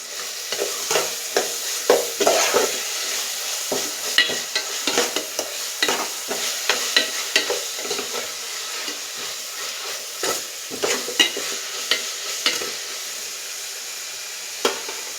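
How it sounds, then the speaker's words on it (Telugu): Ginger garlic paste stirred and fried in a pan for pumpkin fish curry: continuous hissing sizzle broken by frequent quick scraping spoon strokes, close and fairly loud, no voices. "ఇప్పుడు ఇందులో అల్లం వెల్లుల్లిపాయ పేస్ట్ వేస్తున్నాను. ఇది ఒకసారి బాగా కలుపుకుందాం"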